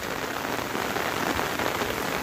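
Steady rain pours over paddy fields of ripe, harvest-ready rice, a dense, continuous hiss close by with no voices.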